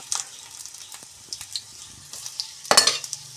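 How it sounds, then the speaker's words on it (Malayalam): Mustard seeds and dried red chillies spluttering in hot oil, a steady crackle with scattered pops, swelling into a louder burst of sizzling near the end. "കുറച്ച് കടുക് ഇട്ട് കൊടുക്കുക കടുകൊന്ന് പൊട്ടട്ടെ വറ്റൽ മുളക് ഇട്ട് കൊടുക്കുക"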